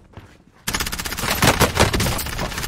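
Rapid automatic gunfire in the video game Call of Duty: Warzone, a loud sustained burst of shots erupting suddenly after a quiet start and continuing to the end.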